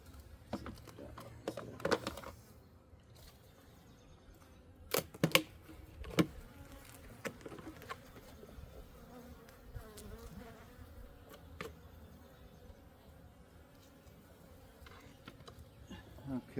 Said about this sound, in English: Bees underneath here.